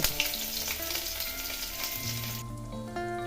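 Chopped onions hit hot mustard oil tempered with a whole dried red chilli and panch phoron, crackling and sizzling steadily and close up, with a brief change in texture near the end.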